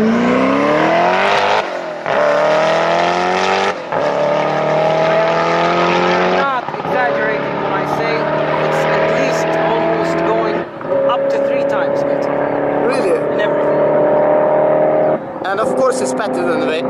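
Koenigsegg Agera supercar accelerating hard, heard from outside: a loud engine note climbs steeply, drops at each of several quick gear changes, then rises again.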